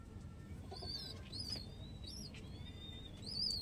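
Soft repeated cooing from Lalsira and KTM Teddy pigeons, a few drawn-out calls rising and falling over steady low background noise, with no voices.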